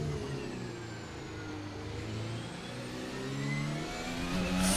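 A Formula 1 car engine in a racing video game revs continuously at high pitch through the laps at Assen, rising and falling smoothly with gear changes, alone without talk.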